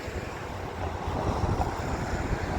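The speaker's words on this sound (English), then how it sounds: "It's pretty breezy out." Steady wind buffeting the microphone outdoors in downtown Grafton, Wisconsin, a continuous low rumble with gusty surges that grow slightly stronger partway through.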